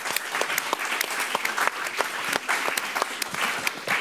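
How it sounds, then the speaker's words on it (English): Steady, dense applause from an audience, many hands clapping continuously at close range without pause. "Let's give her a hand of applause."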